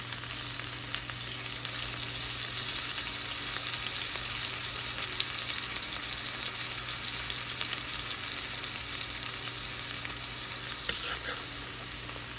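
Cube steak fries in a pan with a steady, dense sizzle heard up close, holding constant throughout with only a couple of faint clicks as the meat is turned.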